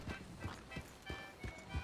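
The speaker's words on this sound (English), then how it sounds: "you don't want to be racing your horse through here" Horse hooves pounding in a gallop through a town in Red Dead Redemption 2, a steady run of heavy thudding beats about every third of a second, fairly close and with no talk over them.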